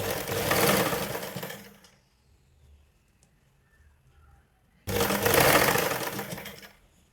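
A sewing machine stitches along a blouse edge in two loud, close bursts of rapid whirring, separated by a few seconds of near silence.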